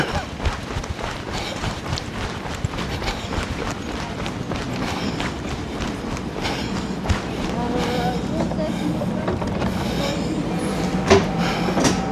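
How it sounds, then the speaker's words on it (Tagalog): A train rumbles in with rhythmic clacking and a steady mechanical roar that builds gradually, with people talking over it. "So, andito na yung tren, oh."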